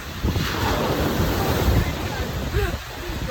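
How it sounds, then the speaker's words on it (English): Ocean waves surge up a shore, loud and close, with a continuous wash of surf and wind buffeting the microphone, swelling then easing toward the end. "The water's coming up pretty high."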